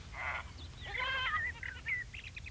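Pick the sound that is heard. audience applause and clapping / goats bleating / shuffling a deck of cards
goats bleating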